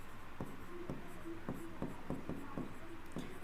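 Chalk or marker writing on a board during a chemistry lesson, with repeated short scratchy strokes in a steady rhythm at moderate distance, faint room tone beneath and no speech.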